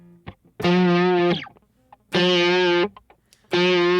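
Distorted electric guitar on a different pickup, three loud sustained power chords separated by short gaps, each cut off abruptly, with faint string noise and pick clicks between them.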